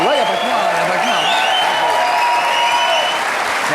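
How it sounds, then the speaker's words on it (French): A studio audience at a French TV talk show applauds loudly and steadily, a dense, continuous wash of clapping with cheering and voices mixed in throughout. "C'est bon d'applaudir Priscilla dans le fauteuil."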